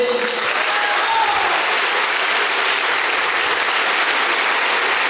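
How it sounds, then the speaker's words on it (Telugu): A seminar audience at a health supplement bootcamp training claps loudly and steadily on cue, a dense wash of applause filling the room for several seconds with no talk over it. "ఒకసారి హెల్త్ సప్లిమెంట్స్ యూజ్ చేసే వాళ్ళు ఒకసారి జోరుగా క్లాప్స్ కొట్టండి"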